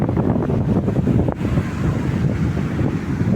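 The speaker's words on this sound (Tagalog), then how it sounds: "May hangin" Steady wind buffeting the microphone on the shore at Baybay Boulevard, a low continuous rumble with gusty swells throughout.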